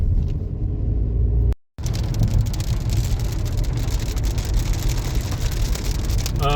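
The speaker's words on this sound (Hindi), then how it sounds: "बहुत तेज़ बारिश हो रही है" Heavy rain drums steadily on a moving car, a Kushaq, on a road in Madhya Pradesh, a dense continuous wash over low road rumble after a brief gap, with no talk.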